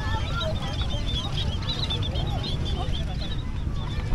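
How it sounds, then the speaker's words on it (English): A dense flock of birds, sounding like honking geese or ducks, chatters steadily by a river in Cambodia under a broad wash of outdoor background noise. "look at these birds"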